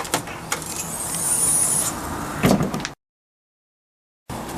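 Audi trunk lid rising on its support struts, a smooth mechanical whir and sliding rush building over two seconds with a soft thump as it reaches the top, followed by silence.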